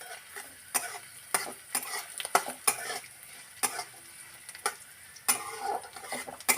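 Garlic and nigella seeds fry in a pan with a crisp, crackling sizzle, broken by repeated sharp scrapes and clinks of a utensil stirring against the metal. Nobody speaks.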